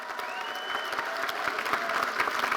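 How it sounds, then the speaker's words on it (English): Sustained audience applause fills a college commencement ceremony, a dense steady clatter of many hands clapping across a large hall, moderately loud and continuous without pause. "Let's have a round of applause for them."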